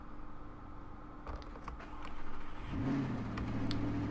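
Ford F-150 pickup engine starting up in the farming game Farming Simulator 2013, a low crank followed by a steady engine hum that settles in near and fairly loud, with no talk.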